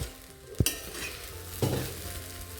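Green chilli, potato and sabudana frying in ghee for sabudana khichdi, with two sharp spoon knocks against the pan over a steady, low, close sizzle and no talk.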